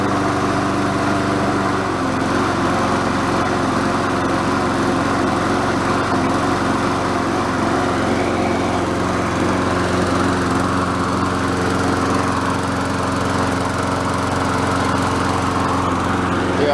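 A Murray 5 hp lawn mower engine runs steadily and loudly throughout at a constant speed, a close, continuous drone with no talk over it.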